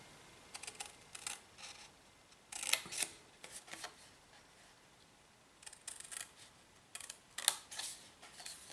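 Scissors snip through paper for a gift box, several short crisp cuts in small clusters, close and quiet with pauses between them and no talking.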